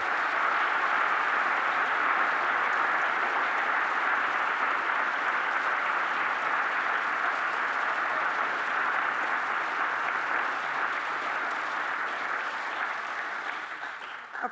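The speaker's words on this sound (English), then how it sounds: "Can you please give me a round of applause for Christo?" An audience at an evening talk welcomes the artist Christo with a long, steady round of dense applause, many hands clapping continuously for about fourteen seconds before it begins to taper off at the very end, with no talking over it.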